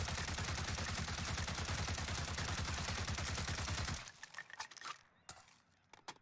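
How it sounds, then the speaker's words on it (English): An SA87 rifle fires full auto in Call of Duty Warzone, a rapid unbroken burst of loud, close shots for about four seconds, followed by scattered clinks of falling shell casings. "I'm going to go ahead and pull the trigger and we'll kind of see how the recoil goes"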